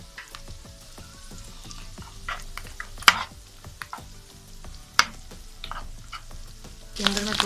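Butter sizzles in a pan with garlic and onion, a steady close frying crackle broken by sharp clinks and scrapes of a spoon stirring against the metal, with no voices.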